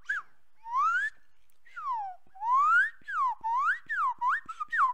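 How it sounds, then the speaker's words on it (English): A slide whistle sound effect plays a string of bright, sliding pitch sweeps, rising and falling in quick glides separated by short gaps. It is loud and close, with nothing else behind it. "Slide whistle sound effect added in by me"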